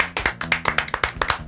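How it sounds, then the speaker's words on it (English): A small crowd claps for a Pyramid Head cosplayer at a convention, a quick, somewhat uneven run of hand claps heard up close, with no talk over it. "Pyramid Head, we're going to give you a round of applause for your cosplay"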